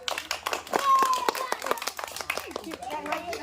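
A round of sharp, uneven hand claps rises during a children's game show contest, the individual claps distinct and close, mixed with people talking and a voice.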